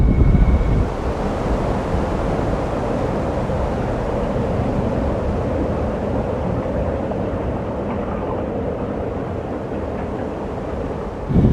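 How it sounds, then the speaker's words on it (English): Strong cold wind, around 20 to 25 mph at -5°F, blows steadily against a van in arctic conditions, a continuous loud rushing roar with no talk. "the wind is blowing 20 or 25 miles an hour"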